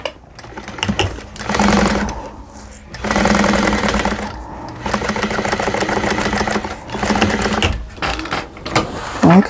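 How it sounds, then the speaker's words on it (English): A sewing machine stitches a quilt seam on a hexagon table runner, running in loud, rapid bursts that stop and restart several times close up. "I'm going to sew from here to here just like we did before"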